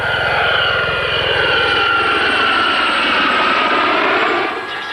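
A military training aircraft overshoots the runway on approach and climbs away, its engine and propeller making a loud, steady throbbing roar with a pulsing low beat that eases slightly at the end.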